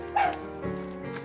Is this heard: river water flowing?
no